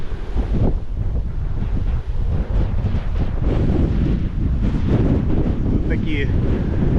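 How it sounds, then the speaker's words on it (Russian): Strong gusting wind buffets the microphone on a walk near Yoros Castle in Istanbul, a loud, roaring rumble that swells and dips throughout, with brief faint voices underneath. "ветрище такой."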